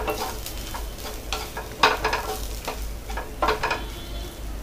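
Coriander and chilli powder are stirred in a pan for a Tamil country chicken curry. A soft, dry sizzle runs under it, with a few louder scrapes of the spoon, close by and without talk.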